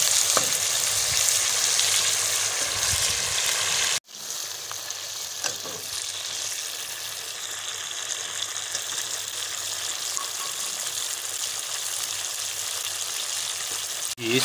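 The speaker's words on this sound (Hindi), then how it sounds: "अब इसमें चिकन ऐड करेंगे। चिकन को लाइट ब्राउन करना है।" Chicken pieces frying in hot ghee for Peshawar-style charsi karahi give a loud, steady sizzle with crackling spatters, cut by a brief pause around the fourth second before the sizzle resumes.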